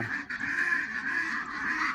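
Steady nasal quacking from laying ducks, continuous and fairly close, with no talking over it.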